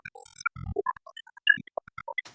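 Access Virus synthesizer's first filter, a resonant bandpass, playing a quick run of short pitched notes with a nasal, narrow tone, close and clear with gaps between notes.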